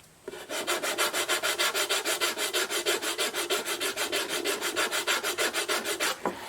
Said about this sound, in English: I might take my scraper or some sandpaper and try to take that down just a little bit